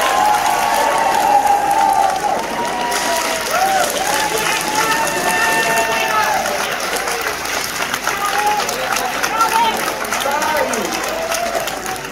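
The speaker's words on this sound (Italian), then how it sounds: "facciamo degli applausi personalizzati, dai, se li meritano." Theatre audience applauding at a musical performance in a Milan church theatre, steady dense clapping filling the hall with a mixed crowd murmur throughout.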